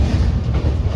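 A passenger train runs on rails, a loud continuous low rumble with dense rattling wheel and carriage noise, heard from on board with no break.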